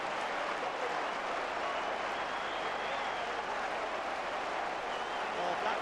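A football stadium crowd applauds a Leeds United goal against Blackburn Rovers, a dense, steady roar of distant clapping and crowd noise filling the whole stretch at even loudness.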